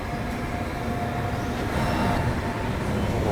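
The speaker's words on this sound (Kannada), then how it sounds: "ಸಾರಿ ಫ್ರೈಟ್ ಹೋಗ್ತಿದೆ ನೋಡಿ, ಗುಡ್ಸ್ ಟ್ರೈನು" A freight goods train rolling past near an Indian railway station, giving a continuous, fairly loud rumble and rattle of wagons that holds steady throughout, with no voices.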